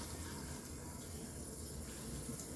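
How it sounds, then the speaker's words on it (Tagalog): A water tap runs into a sink for a cat to drink, a faint, steady gushing stream with no break. "I will open the water."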